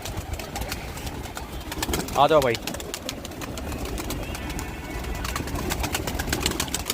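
A pigeon gives a soft cooing call around the middle, fairly close, among other penned pigeons, against low background noise and a voice speaking briefly.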